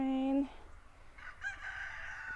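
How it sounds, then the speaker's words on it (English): Chickens crow and cluck nearby, a short crowing call at the start followed by scattered clucks and squawks of moderate loudness. "Those chickens are going crazy."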